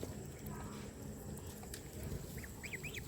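Ducks in their pen at night give a few soft quacks near the end over a low background hum, fairly faint and not far off.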